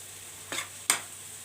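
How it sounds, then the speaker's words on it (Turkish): Onions being sautéed in a pan give two brief, quiet sizzling scrapes about half a second apart, with low background hum between them. "Güzel bir soğanı sote yaptık."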